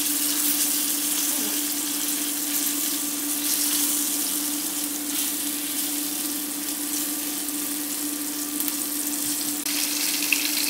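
Chicken paupiettes browning in a frying pan, a loud continuous close-up sizzle that holds steady throughout, with no talking.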